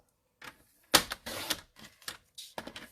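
A paper trimmer slices a sheet of Real Red cardstock, producing a few close, sharp clicks and crisp cutting strokes in a quiet room, with no voices present.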